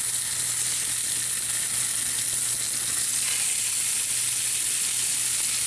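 Short ribs sear meaty side down in hot oil inside a Dutch oven, giving a loud, steady, close sizzle that runs unbroken with no voices.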